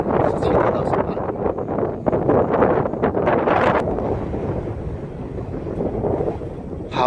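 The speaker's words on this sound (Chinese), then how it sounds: "好大的风哦" Strong wind sweeps across Jinzhen Mountain at Liushidan in Hualien, roaring steadily and buffeting the microphone without pause. Voices are faintly mixed into the gusts.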